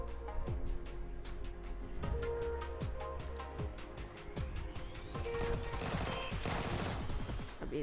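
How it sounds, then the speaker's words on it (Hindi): Rapid bursts of automatic gunfire in the video game PUBG Lite, repeated volleys and single shots cracking across a battle, steady and loud throughout with no talk over it. "सामने फायरिंग हो रही थी"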